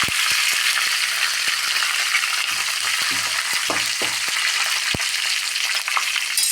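Curry leaves and dried red chillies fry in hot oil for a Kerala-style curry, a steady close hiss of sizzling with scattered sharp pops and crackles throughout.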